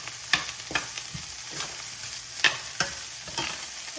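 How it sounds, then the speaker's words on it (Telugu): Cooked rice for egg fried rice sizzles in a hot pan while a spatula repeatedly scrapes and tosses it, producing sharp rhythmic clacks roughly every half second over a constant frying hiss. "రైస్ కూడా బాగా ఫ్రై అవ్వాలి. ఒక 2-3 మినిట్స్ కంటిన్యూస్గా మిక్స్ చేసుకుంటూ ఉండాలి."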